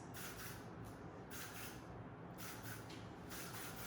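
A spray can hisses in several short, repeated bursts with brief gaps between them, soft and close.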